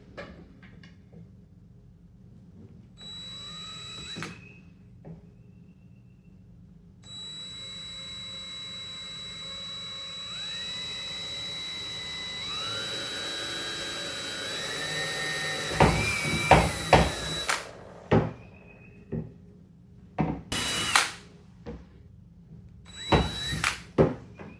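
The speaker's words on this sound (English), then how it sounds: "I'm going to go ahead and drill some holes here in the top of the PVC." A power drill whirs in rising and falling bursts while drilling holes in PVC pipe, steady motor whine broken by short high-pitched spins and pauses, close and fairly loud with no talking.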